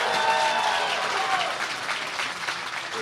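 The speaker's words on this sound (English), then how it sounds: "clap it up for Angelo" A crowd claps and cheers, loud at first and gradually tapering off, with scattered voices mixed into the applause.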